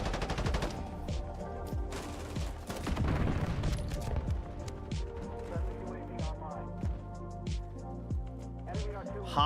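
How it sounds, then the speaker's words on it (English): Rapid bursts of submachine gun fire from a Modern Warfare beta video game, a string of sharp, fast repeated shots with short pauses, loud and close, with someone speaking at times over the shooting. "It's a real SMG."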